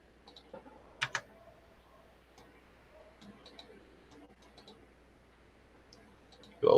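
Two quick, faint mouse clicks close together in a quiet room, followed by a few softer scattered ticks, while operating circuit simulation software.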